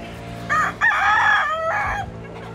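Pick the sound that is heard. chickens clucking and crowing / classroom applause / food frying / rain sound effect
chickens clucking and crowing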